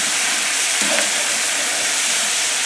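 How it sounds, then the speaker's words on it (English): Chopped garlic sizzling in browning butter in a pan, a steady close hiss with a brief soft clatter near the middle as it is stirred in. "Stir this in to the browning butter."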